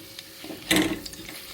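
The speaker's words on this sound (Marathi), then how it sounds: "व्यवस्थित भाजून घेऊया तुपामध्ये" Chopped cashew and almond pieces roast in ghee for black date laddus, giving a faint sizzle and one brief scrape of stirring in the pan.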